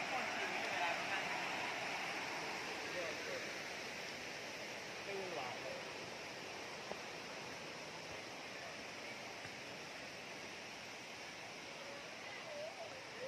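A steady, broad rush of a multi-tiered waterfall at Wang Kan Lueang, Thailand, heard from some distance, continuous and even throughout.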